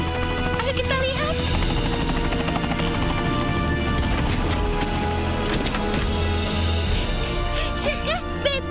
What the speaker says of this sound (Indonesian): Wow, itu helikopter Shuka.